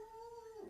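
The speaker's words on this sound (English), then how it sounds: "My dogs must hear someone." Dogs whimper and howl in a short, sustained tonal cry that slides slightly and then breaks off, heard faintly from a distance in a quiet room.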